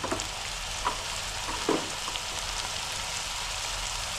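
Small fish curry frying in hot oil, a steady close sizzle with a few brief stirring clatters and scrapes, no one speaking.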